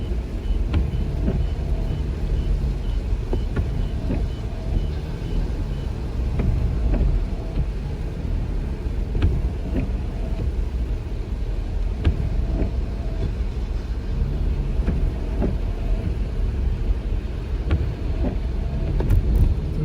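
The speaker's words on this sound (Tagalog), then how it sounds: "Lang medyo mataas yung truck natin at kinaya natin yung baha." A truck drives slowly through deep floodwater from an overflowing drain during stormy weather, with a steady low engine rumble and water sloshing continuously, close and fairly loud throughout.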